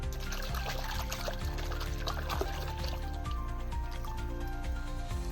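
Muddy creek shellfish are washed in water, making a continuous close sloshing and splashing with steady trickling throughout.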